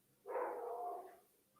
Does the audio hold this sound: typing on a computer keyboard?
no